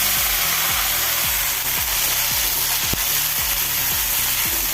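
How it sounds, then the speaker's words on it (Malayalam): Chopped green plantain fries in a pan, a dense continuous sizzle with regular low scraping strokes of a spoon stirring roughly twice a second. "അരിഞ്ഞു വെച്ച കായ ഇട്ട് കൊടുക്കാം"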